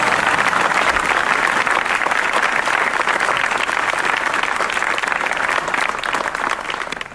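An audience at a Gujarati comedy show claps in sustained, dense applause, loud and even throughout, tapering slightly at the end.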